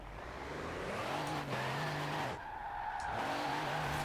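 A stock Iron Knight racing truck in Forza Horizon 4 slides its wheels, with a steady engine drone under continuous tire squeal and skidding that rises and dips over a few seconds.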